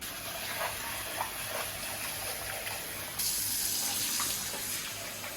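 Trimmed green beans being rinsed under a running kitchen tap, a steady close hiss of water into a sink that grows brighter and louder partway through, with no talking.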